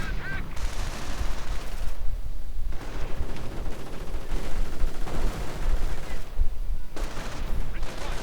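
Gunfire from an anti-tank gun and infantry rifles in the Company of Heroes strategy game, a dense, continuous barrage of shots and blasts, loud and sustained throughout, with bursts overlapping in a busy battlefield mix and no talk.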